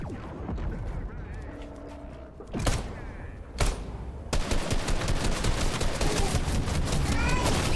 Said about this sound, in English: What is this? Pulse rifle.